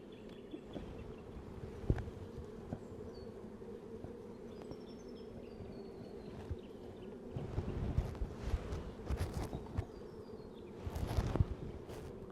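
Honey bees buzz steadily around an open hive frame in an apiary near a river, a continuous close drone with a few louder passes of individual bees.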